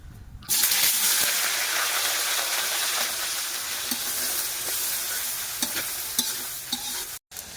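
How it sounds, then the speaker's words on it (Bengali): Onions hit hot mustard oil with a sudden loud hiss, then keep frying in a thick, steady sizzle on a stove, with a few utensil taps and a brief cut near the end, no voices. "তেলটা একটু বেশি টানায় নিতে হয়, গরম হওয়ার পরে পেঁয়াজ দিতে হয়।"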